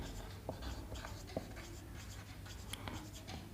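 A marker or chalk writes an equation of a plane on a board during a Class 12 maths lesson, with soft scratching strokes and a few sharper taps, close and quiet, with no voice over them.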